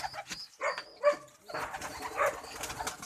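Domestic pigeons cooing softly in a loft, a few low murmuring calls close by with some rustling and faint background noise.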